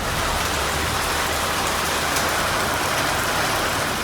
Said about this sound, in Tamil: ராணிப்பேட்டை மாவட்டத்தில் இரவில் மிதமான மழை பெய்தது.